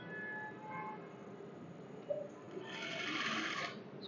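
A sewing machine stitches salwar fabric in a quiet room, running with a soft, fast mechanical whir that grows busier and brighter toward the end, faint and close.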